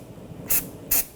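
Two short, sharp bursts of aerosol anti-seize spray hissing close by during a front brake job on a Subaru Forester, each about a tenth of a second, over faint background noise.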